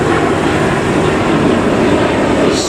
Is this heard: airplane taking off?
yes